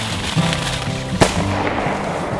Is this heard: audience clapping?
no